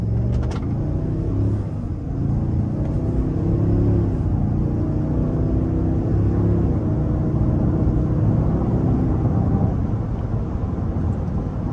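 A 2025 Cadillac Escalade Premium Luxury with the 6.2 V8 accelerates up an interstate on-ramp, a steady low engine rumble from inside the cabin with rising harmonics as it pulls, no talking.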